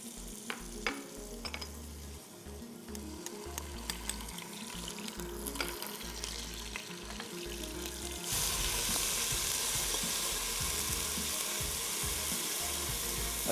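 Browned onions with garlic-ginger paste and green chili paste fry in a pan, starting with a steady sizzle under scraping and stirring, then jumping to a loud, dense hiss as the paste hits the hot oil.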